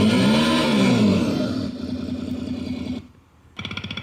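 A Segway Ninebot GoKart Pro's electric drive sounds like a two-stroke engine. A close, loud revving whine rises and falls, then fades and cuts out briefly before a buzzy, pulsing engine-like tone returns.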